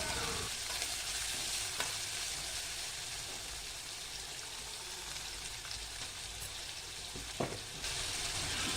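Radish frying in a pan for chutney makes a loud, continuous hissing sizzle close by, with occasional sharp clicks of a stirring spoon on the metal.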